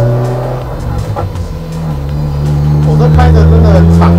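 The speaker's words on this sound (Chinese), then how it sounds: "在车内听那个引擎声，" A rare Mazda RX-7's rotary engine drones loudly from inside the cabin while driving, a low steady hum rising slightly in pitch as it revs, with occupants speaking over it.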